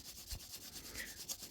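A Matchbox Ferrari 308 car body is mirror polished by hand, a quiet, close, repeated back-and-forth rubbing in short strokes.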